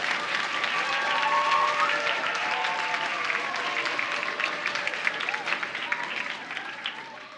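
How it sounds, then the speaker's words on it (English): Audience applause at a school Battle of the Books event for students and teams, sustained crowd clapping mixed with cheering voices and chatter, gradually fading toward the end. "let's give each other a round of applause for all of your hard work."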